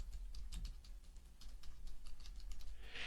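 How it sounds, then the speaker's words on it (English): Quiet keystrokes patter on a computer keyboard in an irregular, steady stream of light clicks, close and alone with no talking. "And then I'll start typing."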